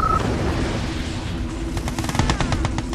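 Gunfire in Red Alert 2: Yuri's Revenge, a dense stretch of rapid shots and blasts that builds toward the end over a constant rumbling battle backdrop.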